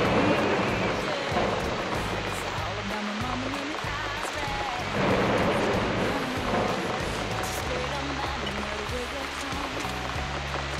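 Steady rain roars inside a video game while a vehicle is driven. A dense, constant wash of water noise runs underneath, with occasional tonal game sounds and shouting voices on top.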